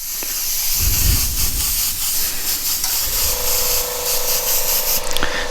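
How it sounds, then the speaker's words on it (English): An airbrush sprays paint for a gold chain graffiti design with its chuck nut pulled back, giving a steady, close, airy hiss throughout. A thin whistling tone joins in toward the end. "You can fill more quickly, especially if your paint isn't flowing so smoothly, by pulling back this chuck nut. It's a quick way to quickly throw down some paint"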